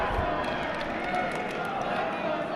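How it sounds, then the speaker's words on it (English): A wrestling crowd at a PPW event roars and chants in a dense, steady wash of many voices, loud and continuous throughout. "listen to this crowd. They are chanting, "This is awesome. Fight forever.""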